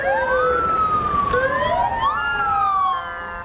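Ambulance sirens wail loud and close in Baghdad, overlapping rising and falling tones from several vehicles in a fleet, fading slightly near the end with no talk.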